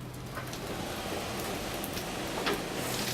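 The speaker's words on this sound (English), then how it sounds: "Make it stop raining." Rain falling at sea during plastic sampling from a boat, a steady close hiss of drops with no speech.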